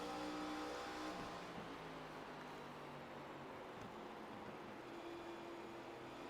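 Several ARCA race car engines from the iRacing sim drone together at a steady, sustained pitch as two cars run side by side, a continuous mid-level roar with no talk.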